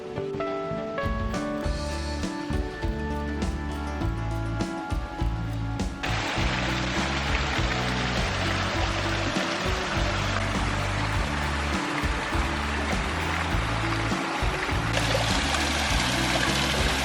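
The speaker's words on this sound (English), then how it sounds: "this creek is very dramatic" A fast-flowing creek beside an abandoned mill near Guntersville Lake in Alabama rushes and splashes in a constant broad wash of water, close and unbroken.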